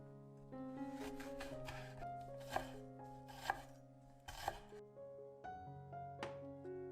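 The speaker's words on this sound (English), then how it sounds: "slice some tomatoes and chilies" Tomatoes and chilies sliced with a knife on a board, a series of crisp chopping taps at an uneven pace, close and clear, with soft music playing underneath.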